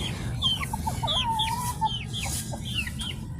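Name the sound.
chickens clucking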